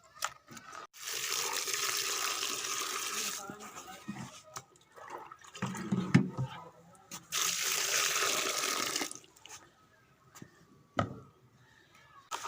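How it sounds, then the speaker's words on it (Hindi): Spinach is washed in water in a home kitchen, with bursts of running and splashing water, handling noises and pauses between rinses, close and fairly quiet, without speech. "पालक को अच्छी तरह 2-3 मरतबा धो लेंगे।"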